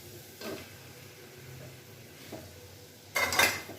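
Chicken keema is stir-fried in a pan, with a few soft scrapes and stirring clinks and a louder sizzling scrape at the end, fairly quiet overall.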